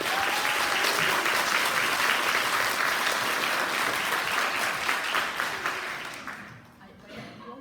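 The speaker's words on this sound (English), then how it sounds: "Let's give those preschool lifers a round of" Dense, sustained applause from a school audience for preschool students at a fourth grade honors day, loud and even before tapering off near the end.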